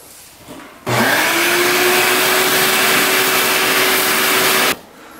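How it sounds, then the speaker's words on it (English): A shop vacuum sucks mouse debris out of a barn-stored 1967 Yamaha motorcycle, starting abruptly with a loud, steady whining roar that holds for about four seconds before cutting off, close and alone. "We'll keep on vacuuming out."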